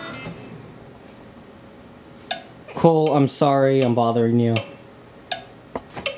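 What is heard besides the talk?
rhythm tapping for music theory homework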